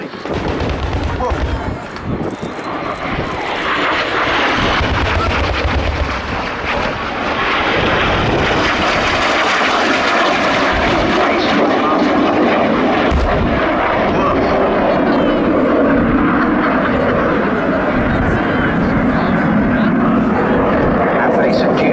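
Military aircraft making a double strafe pass at Cosford Air Show, a loud roaring jet engine sweeping past with rumbling bursts like simulated ground fire, the roar building and holding, with a commentator talking over it.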